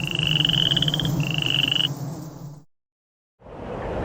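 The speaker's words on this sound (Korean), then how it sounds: "방과 지붕 위에도 수많은 개구리들이 뛰어다녔어요" A dense chorus of frogs croaks loudly and continuously, accompanying a children's Bible story about the plague of frogs in Egypt, then cuts to sudden silence before a hissing wash of noise returns.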